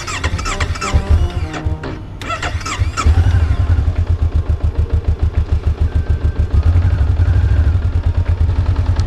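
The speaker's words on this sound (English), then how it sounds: "Clutch is in, kickstand's up, ignition. Oh, there we go." A Honda CB500F motorcycle cranks over with clattery starter noise, then its engine catches and settles into a loud, steady, pulsing idle close by, with no talking over it.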